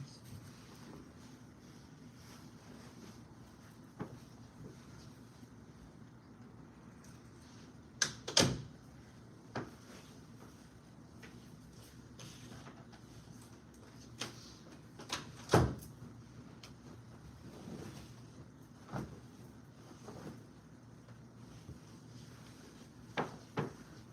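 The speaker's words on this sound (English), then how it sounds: "Let me close these doors." Indoor doors are shut one after another, giving several sharp knocks and thuds spread over a quiet room background, a couple of them louder and closer.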